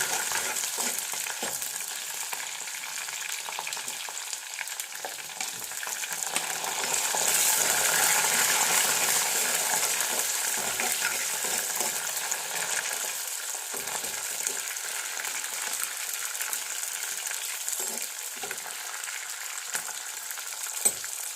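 Curry leaves, ginger and garlic sizzle in a hot pan with a continuous crackling hiss. The frying swells louder midway, and faint stirring scrapes sound throughout.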